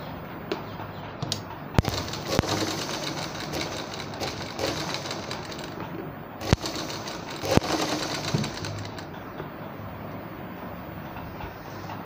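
A sewing machine stitches a straight seam on a round-cut umbrella, its motor whirring steadily at close range for most of the stretch, with a few sharp clicks and knocks scattered between the runs.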